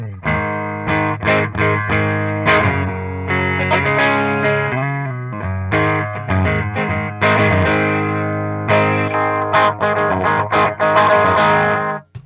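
Distorted electric guitar played through a Four Force EM-1 2x12 amplifier, loud and close, with chugging chords and sustained riffs that carry a thick, tube-like overdrive throughout.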